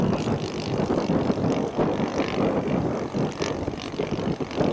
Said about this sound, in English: So we got a beautiful PT-19 coming up.